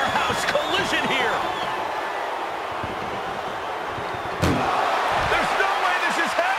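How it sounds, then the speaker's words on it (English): In WWE 2K24, wrestlers collide during a CM Punk versus Drew McIntyre ambulance match with heavy slamming thuds. There is a sharp loud impact partway through, mixed with crowd noise and commentary talk. "what a powerhouse collision here"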